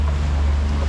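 A small boat ordered from Temu sits out on the water, giving a low, steady droning hum mixed with gusty wind noise over a brief moment, with no talk.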